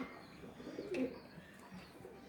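Pigeons in a coop give low, faint coos and soft murmurs over a quiet background, with one slightly louder call near the middle.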